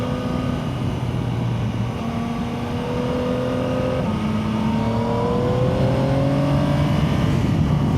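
A 2025 Yamaha Tracer 9 GT+ motorcycle engine rises and falls in pitch as it speeds up and slows down on a sandy road, a steady close drone with rising revs toward the end.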